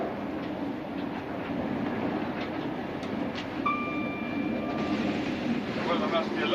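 A steady rumble and rattle from a British Rail train running at speed on the Leeds–London line, heard from inside a carriage. The noise is continuous, with faint rail clicks and a brief high whine partway through.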